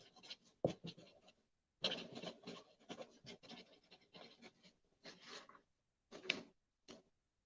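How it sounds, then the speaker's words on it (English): A pen scratches across paper while someone handwrites a note, in short, close bursts of strokes separated by brief pauses in a quiet room. "Let me write that down."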